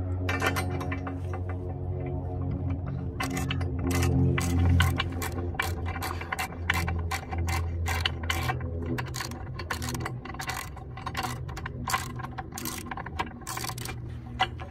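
Ratchet wrench tightening bolts on Metalcloak rear differential armor, rapid clicking strokes in irregular bursts over a low background hum, close and moderately loud with occasional metallic clinks.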